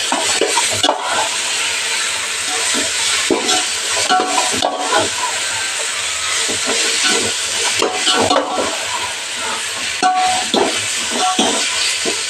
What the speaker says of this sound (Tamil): இப்போ நல்லா நம்ம வதங்கி வரட்டும்